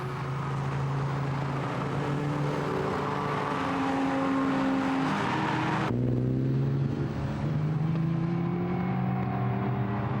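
Lancia Stratos rally car in the Tour Auto 2005 historic event, a loud sustained engine note rising and falling through gear changes, with a sharp cut near the middle as the sound shifts closer or past.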